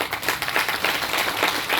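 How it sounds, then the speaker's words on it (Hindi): Audience applause at a lifestyle business plan presentation, a brief dense burst of clapping from a crowd, steady and moderately loud throughout. "चाहूंगा जोरदार तालियां।"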